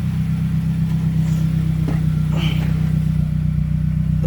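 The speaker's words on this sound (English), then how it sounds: "MPS is idling." A Mazda MPS engine idles steadily with a constant low, even hum, loud and close, and a few faint clicks and rattles over it.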